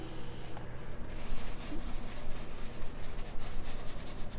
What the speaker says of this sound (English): So again, you can either spray your napkin